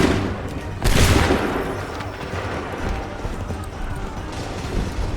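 Musket volley in the video game Assassin's Creed 3: a sharp, loud burst of massed gunfire that fades into a lingering rumble of battle noise.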